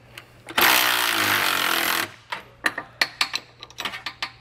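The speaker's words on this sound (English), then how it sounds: "Now you're gonna wanna put a 19 millimeter wrench on the other side and tighten it down" A 19 mm wrench tightens large bolts on a Curt trailer hitch on a 2022 Hyundai Palisade: a brief burst of power-tool whirring, then a run of sharp ratcheting clicks in an uneven rhythm, close and moderately loud, no talking.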